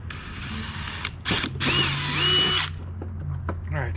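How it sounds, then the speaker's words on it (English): A power drill whirs in several bursts, revving up and down as it bites into a cap, with short pauses between runs. "drill a hole in our cap"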